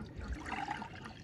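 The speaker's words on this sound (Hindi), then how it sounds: "ये यहाँ पे गिरा देते हैं और आधी इसमें डाल देते हैं" Water is poured steadily into a small vessel, giving a continuous close splashing and trickling sound for about a second with no speech over it.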